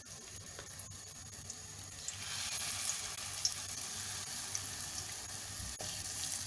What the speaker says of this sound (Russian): Жарим до готовности.